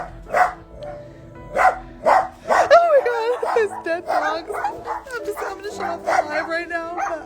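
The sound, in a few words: dogs barking and whimpering at a hoarding rescue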